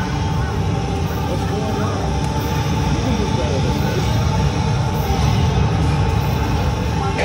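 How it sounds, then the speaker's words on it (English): An enemy helicopter approaches in the arcade shooter Time Crisis 4, a continuous loud engine roar and rotor rumble filling the whole stretch without pause. "An enemy helicopter is approaching."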